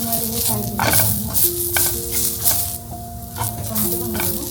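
Coriander seeds, fennel and tomato dry-roasting in a pan for a prawn rassa masala, a continuous loud sizzle and hiss with scraping stirs and faint tonal background sounds.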